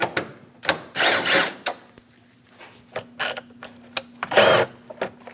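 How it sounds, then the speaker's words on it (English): Ratchet on a 10mm socket backing out air cleaner bolts on a Chevrolet Express 2500 4.8L: short, close bursts of rapid clicking separated by pauses, with light metallic handling noises in between. "Using a 10mm socket, remove the 2 bolts for the air cleaner."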